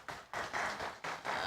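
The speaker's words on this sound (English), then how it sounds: "Another round of applause." Applause from the audience at an academic scholars' dialogue forum, a short broad wash of clapping that swells in several bursts and sounds moderately distant in the hall.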